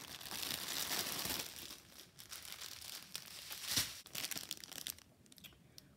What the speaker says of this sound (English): One moment while I make some crinkling noise.